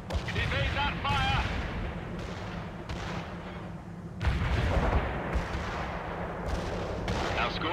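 Battlefield gunfire and artillery from the video game World in Conflict, with repeated booming impacts and rattling shots in dense bursts, mixed with in-game voices calling out over the combat.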